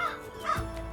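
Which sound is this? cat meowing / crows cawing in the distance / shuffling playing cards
crows cawing in the distance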